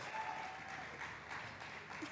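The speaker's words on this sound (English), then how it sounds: "a round of applause for him" An audience applauds at a fireside career-success talk with a comedian guest, a continuous wash of moderate clapping from a crowd, sustained and fairly even without speech over it.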